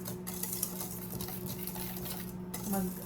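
A whisk or spoon stirs chiffon cake batter in a bowl, producing a steady, close scraping and swishing with light clinks against the bowl rim.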